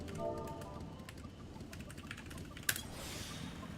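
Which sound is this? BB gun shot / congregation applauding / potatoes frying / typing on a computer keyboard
typing on a computer keyboard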